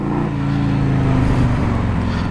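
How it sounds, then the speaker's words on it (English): A 1984 Harley-Davidson FLT Tour Glide motorcycle engine runs close and loud, a steady low throbbing rumble that rises slightly in pitch as it revs, with no talk over it. "It doesn't sound like it's revving as high to me because it's so much quieter."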